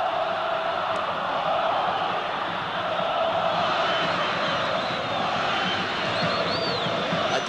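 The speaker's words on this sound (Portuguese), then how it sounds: "Olha a torcida do São Paulo aí." Large São Paulo supporters' crowd in a stadium during the 1983 Campeonato Paulista final against Corinthians, a steady, dense roar of massed voices filling the whole stretch with no single standout shout.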